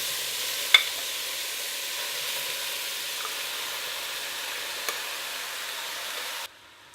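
Lamb goes into a pan of sizzling sliced brown onions for a curry, a soft steady sizzle with a couple of sharp clinks, cutting out near the end; no voices.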